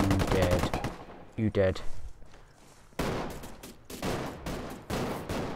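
AK rifle bursts in Ghost Recon Wildlands multiplayer PvP, rapid sharp automatic fire in several bursts with a short pause between, mixed with a player talking.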